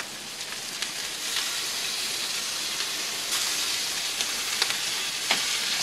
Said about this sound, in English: Next, I'm going to add a little soy sauce.